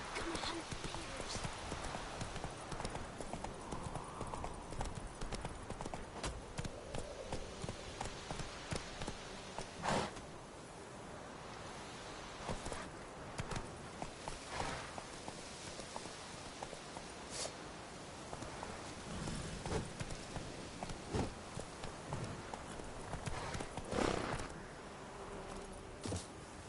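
Roach the horse in The Witcher video game, hooves clip-clopping in a steady walking rhythm under game dialogue and speech, with faint rustling and rain-like ambience behind.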